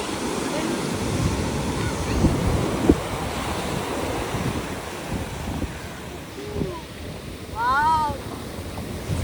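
Ocean surf rolling onto a beach in Sri Lanka, a steady broad wash of waves with wind buffeting the microphone, and a few brief voices and bird-like chirps surfacing near the end.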